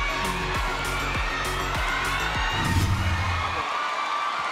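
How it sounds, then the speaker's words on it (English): Indoor volleyball crowd at a professional women's match roaring in a frenzy, a loud sustained cheer with rhythmic thundersticks banging and the noise easing off near the end. "Crowd is on a frenzy."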